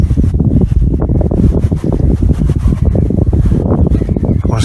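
Wind catching rushes in a nature habitat at Gibraltar Point, a steady broadband rush with heavy low buffeting against the microphone, continuous and loud throughout with no talk.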